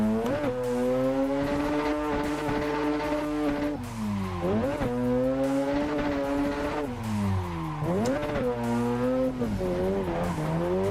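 Drift cars in Assetto Corsa Evo with tires squealing and skidding at steep angles, heard as a continuous, loud, wavering screech over a revving engine with repeated pitch swoops as the car transitions.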